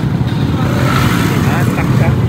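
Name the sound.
motorcycle engine starting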